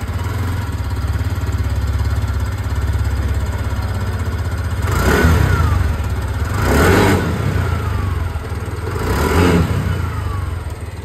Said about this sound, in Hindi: मैं आप लोग को यहाँ पर इंजन के सुना देना चाहूँगा